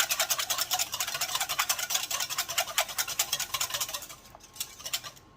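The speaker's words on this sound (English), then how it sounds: "I like to whisk as I go just to be sure everything's getting beat up well" Rapid, steady whisking in a bowl as water is beaten into egg and milk for banana pudding, a close, bright scraping patter that runs without a break and slows and fades near the end.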